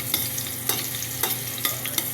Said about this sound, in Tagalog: Ayan natin siya halo-haloin hanggang maging brown siya.